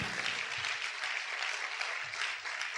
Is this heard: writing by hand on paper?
no